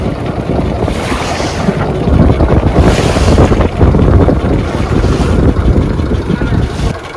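A fishing boat runs in the Sundarbans through strong wind, its engine droning under heavy, roaring wind buffeting and water noise, loud and continuous.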